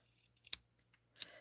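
A few quiet, crisp snips of scissors cutting paper, two distinct cuts separated by a short pause, close and otherwise silent.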